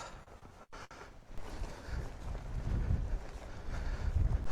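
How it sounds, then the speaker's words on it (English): Strong wind buffets the microphone on Scotland's west coast at a wild camping spot, a loud rumbling gusty roar that builds and stays heavy, with no talk. "it's definitely windy down here"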